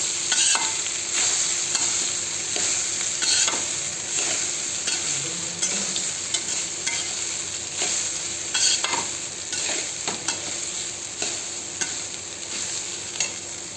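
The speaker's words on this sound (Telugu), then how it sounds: "ఇప్పుడు దీంట్లో అన్నం వేసుకొని కలుపుకుంటే బాగుంటుంది." Cooked rice is stirred into an ajwain masala in a hot pan, a loud continuous sizzle with repeated scraping and mixing strokes throughout, close up and without speech.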